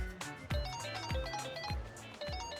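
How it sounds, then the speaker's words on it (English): A mobile phone ringing in the video game Like a Dragon: Infinite Wealth, a repeating electronic ring with bright tonal notes over a steady game score, several evenly spaced rings within a few seconds, no voices. "is that your phone?"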